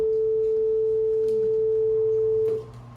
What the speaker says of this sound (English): So here's the sound of the most simple form, the sine wave.